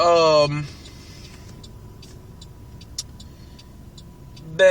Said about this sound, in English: I'm pausing because, I'm driving